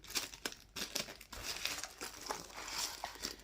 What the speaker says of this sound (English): So let's rip this bag open.